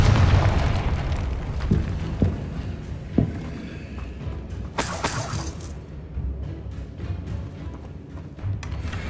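Confringo blast spell from a Harry Potter video game, a booming burst with a bright crackling shatter midway, set among other rumbling game effects and lingering debris noise.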